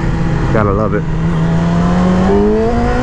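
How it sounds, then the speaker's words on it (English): A 2020 Yamaha R6 sport bike on a test ride at low speed gives off a loud, steady engine drone whose pitch rises gradually. A rider talks over it. "the sound of this bike"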